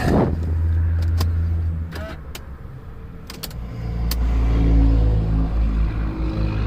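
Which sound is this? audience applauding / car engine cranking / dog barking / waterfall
car engine cranking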